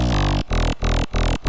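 Wonky melodic bass synth patch built in Serum 2 with its diffuser filter and an LFO modulating drive, heavy and loud, sounding in four rhythmic stabs with sharp silent gaps between them.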